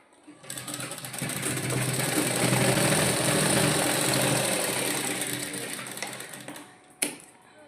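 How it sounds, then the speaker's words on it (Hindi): Sewing machine running steadily for several seconds while stitching a fancy dress for a six-month-old baby girl, a continuous close whirring hum, then stopping with a brief click near the end. "और एक सिलाई हम यहाँ चलाएंगे।"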